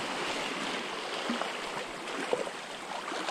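A small waterfall and stream rush steadily along a fishing spot, a continuous broadband splash and gurgle at moderate level with no one talking.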